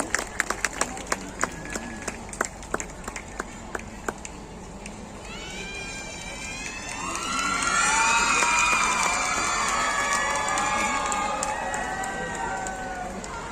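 An audience claps during a ceremonial lamp lighting that opens a three-day Uttar Pradesh Day festival at Noida's Shilp Haat. After a few sharp claps, the applause swells into dense sustained clapping over a noisy crowd.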